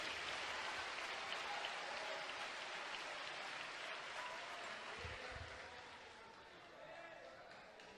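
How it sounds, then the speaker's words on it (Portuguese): Dense audience applause fills the room, loud and sustained at first, then slowly fading as the clapping thins out. "Vamos aplaudir com vontade."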